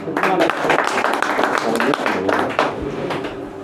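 Applause rises from the crowd at a Bhim Army press conference in Bettiah, loud and continuous, with voices talking through the clapping.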